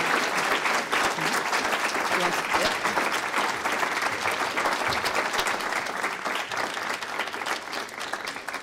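Audience applause welcoming Stacey Abrams at an alumni awards event, with dense sustained clapping from a large crowd that holds steady for over eight seconds and eases off only slightly toward the end.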